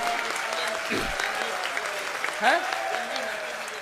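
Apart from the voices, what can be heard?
audience applause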